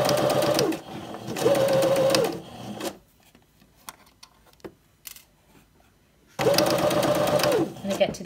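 A sewing machine runs in two loud sustained bursts of straight stitching through fabric at a long stitch length, separated by a quieter pause with small handling clicks, then starts stitching again.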